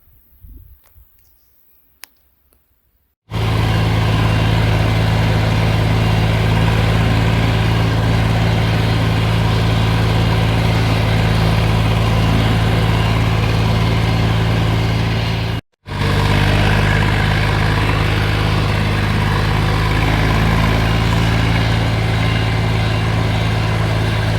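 A Kentavr tractor engine running steadily at around 2000 rpm, a loud, close, constant diesel drone that starts after a few quiet seconds and cuts out briefly once before carrying on unchanged.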